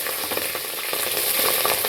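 Whole garam masala and green chillies fry in hot oil in a pan, giving a steady, close sizzle with faint stirring scrapes throughout.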